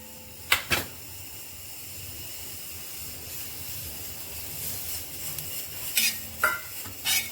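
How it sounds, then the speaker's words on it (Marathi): Dried coconut roasting in a pan gives a soft, steady hiss, broken by a few crisp scrapes and clinks of a spatula stirring it near the start and end. "ह्यामध्ये आपण ते सुकं खोबरं आहे ते भाजून घेणार आहे"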